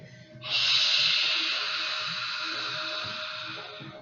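A long steady exhale through the nose during a yoga sun salutation, one loud close breath of about three and a half seconds that slowly fades, with no talk.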